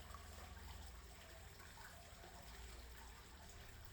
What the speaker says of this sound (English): rushing water is getting louder in the distance